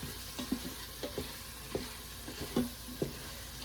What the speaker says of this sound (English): you just want to sweat the onions